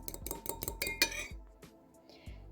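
Egg yolk and yogurt whisked together in a bowl for an apple pie, quick rhythmic clinks of a utensil against the bowl, close and fairly quiet, trailing off into a few scattered taps.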